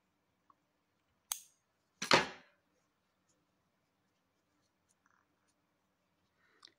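Scissors snip through yarn during a crochet tea-bag bookmark project, two crisp cuts close together followed by a faint tick, near and alone in a quiet room.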